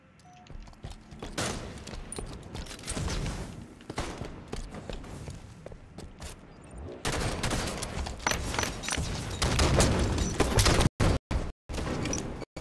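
Rapid bursts of automatic gunfire in Halo 5 Guardians multiplayer, sustained and loud, building in intensity toward the end with abrupt cutoffs, mixed with game effects and footsteps.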